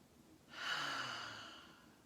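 A single slow, deep breath taken during a seated chair yoga session for the shoulders and spine. It is soft and close, swells after a quiet start, then fades gradually, with no talking.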